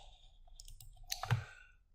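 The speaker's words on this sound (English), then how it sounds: "So you can click on that." A computer mouse gives a couple of small, sharp clicks close by in an otherwise quiet room, with no talking.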